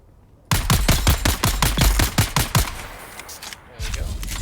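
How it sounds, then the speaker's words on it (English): Rapid automatic gunfire in the video game Dune Awakening, about a dozen sharp shots in a steady burst, loud and close, followed by quieter ambient game sound. "here's good opportunity to use a gun"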